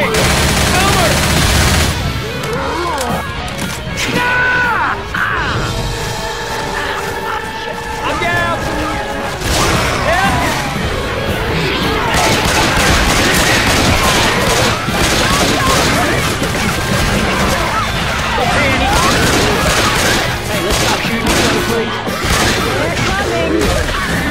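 Dense, continuous gunfire from Left 4 Dead 2 fights against a charger in a live Confogl Xbox 360 match, with heavy overlapping shots, booms and crashes over the whole stretch. Voices shout through the chaos.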